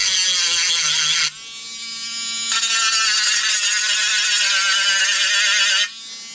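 A mini drill whirs at high pitch while deburring plastic, its steady buzzing motor changing load partway through and then cutting off near the end, loud and close with no talking.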